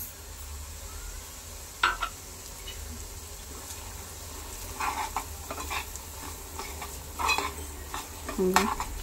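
Semolina roasting in ghee over a very low flame, stirred with a spoon against the pan: a quiet sizzle underneath a few distinct scraping strokes, heard up close with no speech.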